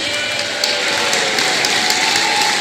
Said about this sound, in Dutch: Geef hem een geweldig applaus.